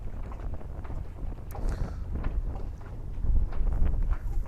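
Steady low rumbling wind buffets the microphone on a sailing boat off Sicily, with some rustling and faint knocks on top, growing a little stronger toward the end.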